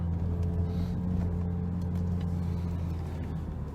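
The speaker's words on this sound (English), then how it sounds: "All those cars trying to turn." Steady, close engine rumble from cars at a busy road intersection on James Street in Toowoomba during street closures, a continuous low traffic drone with no voices.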